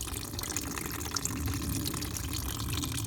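Engine coolant, Dex-Cool, drains out of a car's cooling system and splashes toward the radiator fan, making a steady, continuous liquid rush that stays close and fairly even throughout.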